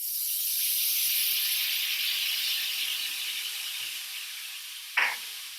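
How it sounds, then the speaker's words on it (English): Water added to a hot pan hisses and steams steadily as food cooks, a broad sizzling hiss that slowly fades, ending with a brief sharp clatter near the end. "We're literally going to steam it."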